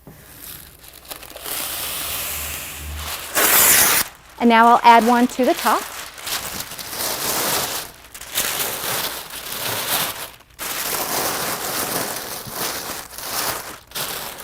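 Acid-free tissue paper crinkles and rustles in bursts as it is tucked around a folded quilt inside a storage box. A person talks throughout, close by.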